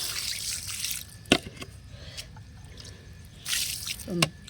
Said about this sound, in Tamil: கொஞ்சம் பஞ்சகவ்யா ஊற்றிக்கலாம்